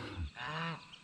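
A goose on a hobby farm gives one short, close, nasal honk that rises and then falls.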